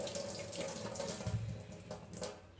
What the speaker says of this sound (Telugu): పీల్ చేసేసి బాగా వాష్ కూడా చేసేస్తాము.